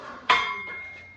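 A metal weight plate clinks sharply once against a functional trainer stack, a single bright ringing strike that decays over a faint background, with no talking.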